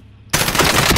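Rapid, sustained assault rifle fire in Warzone, the AR with the fastest fire rate, bursting in loud and close after a near-silent moment and hammering on without pause.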